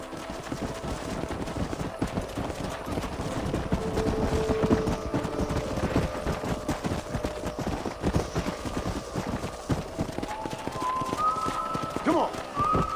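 Horses gallop in Red Dead Redemption, a dense stream of rapid hoofbeats running steadily through the whole stretch, with busy game sounds and a little talk layered over them.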